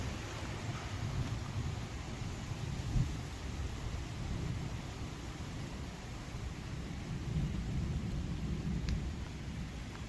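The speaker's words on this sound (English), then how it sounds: "There comes some thunder." Distant thunder rumbles low beneath steady wind noise and broadband roar during a spring windstorm, with no voices, the rumble swelling briefly and then easing into a continuous blustery wash.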